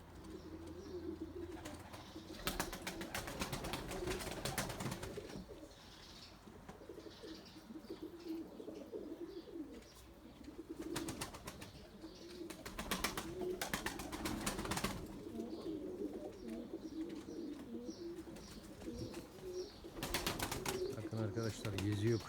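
Tumbler pigeons, including young birds, coo in a loft: soft repeated cooing in low bursts, with wing flaps and shuffling, under intermittent talk.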